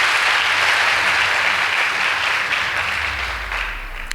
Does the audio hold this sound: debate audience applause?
yes